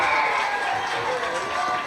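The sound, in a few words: fans applauding at a high school football game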